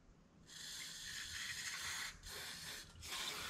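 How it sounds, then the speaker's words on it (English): An aerosol cleaner sprays into the bowl of a Mikuni BS38 motorcycle carburetor in steady, loud hissing bursts, with two brief pauses between sprays. "So you want to spray out the pilot jet hole and that airway"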